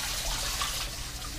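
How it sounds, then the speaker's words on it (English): Cold water runs steadily from a tap over rice being washed, with a broad hiss and splashing, close up and fairly loud. "I'm gonna wash it in cold water"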